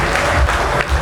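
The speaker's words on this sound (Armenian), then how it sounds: "բարձր ծափեր նվիրենք" Loud applause from guests at a festive gathering, a dense, continuous burst of close hand clapping with a few cheering voices mixed in.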